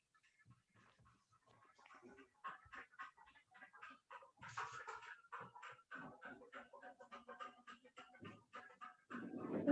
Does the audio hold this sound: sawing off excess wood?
no